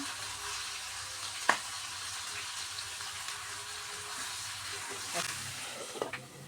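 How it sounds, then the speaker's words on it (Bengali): Potatoes fry in a pan, a soft continuous sizzle heard close but quiet, broken by a couple of brief clicks and light stirring sounds. "আলু নিয়ে পুরো ভেজে নিয়েছি সুন্দর করে"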